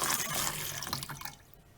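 Fresh cold water runs from a tap to rinse the canister of a Dyson DC33 vacuum, a steady close splashing stream that cuts off near the end.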